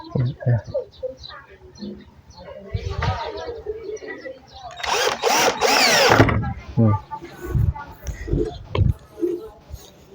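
A power drill tightens a nut on a door frame during door installation, whirring in short bursts with one louder, longer run in the middle, close by, under people talking throughout.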